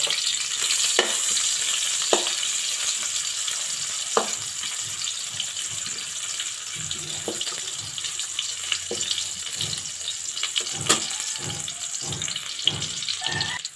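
Chicken pieces browning in a frying pan for adobo give off a steady high sizzle, punctuated by repeated scraping and stirring clicks from a utensil.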